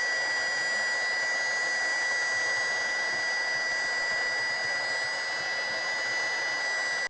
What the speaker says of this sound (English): Now we're gonna go ahead and hit it with the heat gun.